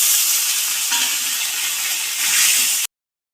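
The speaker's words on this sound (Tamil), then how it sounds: "இப்போ வெங்காயம் எல்லாம் வதங்கிக்கிட்டு இருக்குது." Sliced onions sizzle in hot oil with green chillies and curry leaves, a close, steady frying hiss with faint stirring, cutting off abruptly near the end without talk.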